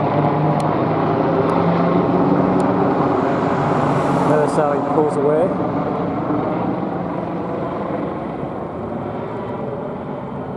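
A loud, steady engine drone of a fire helicopter overhead, slowly fading as it moves away, with someone talking over it.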